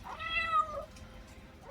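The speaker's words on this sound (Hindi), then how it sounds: "पता नहीं अब बिल्ली है कि बिल्ला है, शक्ल से तो बिल्ला लगता है" A small male kitten meows in the rain in a Himachal village, giving two drawn-out, wavering cries close by with a third starting at the end, and no talk.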